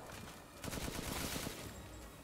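Rapid bursts of gunfire from a powerful gun in the survival horror game Resident Evil Village, a fast volley of shots over about a second amid steady background game noise.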